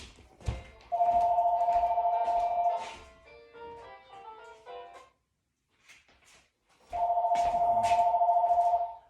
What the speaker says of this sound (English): landline rings constantly